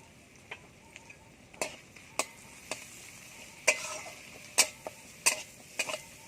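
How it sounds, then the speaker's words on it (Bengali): Spice paste of cumin, ginger, turmeric and a little chili powder frying for a fish curry: a low sizzle broken by sharp, irregular spatula clicks against the pan as it is stirred, growing more frequent toward the end. "মশলাটা ভালো করে কষিয়ে নিতে হবে"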